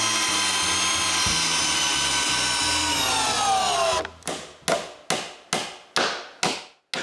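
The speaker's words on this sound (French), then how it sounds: "je visse le bas à la structure" A power screwdriver drives a screw into the bottom of a woodshed wall frame, a long steady whine rising as the screw seats, then about six short bursts of drilling with pauses between them, close and loud.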